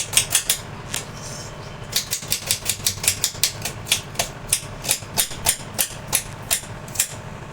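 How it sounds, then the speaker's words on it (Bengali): Meat spice paste of ginger, garlic, tomato, green chillies and dried chillies being ground by hand, heard as a steady run of sharp, close knocking strokes in a quick, even rhythm with short pauses between bursts. "মাংসের মশলাটা ভাই পিষে দিচ্ছে, সব কিছু দিয়ে, আদা রসুন দিয়ে"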